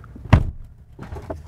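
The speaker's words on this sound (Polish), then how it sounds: "Natomiast dźwięk zamykania tych drzwi jest kompletnie nie mercedesowski." Mercedes-AMG CLA 45 S car door shutting with a single solid thunk, close and fairly loud, followed by faint movement and soft handling sounds with no talk.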